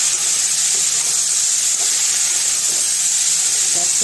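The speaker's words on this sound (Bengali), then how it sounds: "ক্যাপসিকাম আলুগুলি হচ্ছে ভাজা" Capsicum and potatoes fry in a pan with a continuous loud sizzling hiss, steady and close, broken only by faint clinks of cookware.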